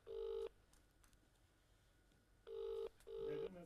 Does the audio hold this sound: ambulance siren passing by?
no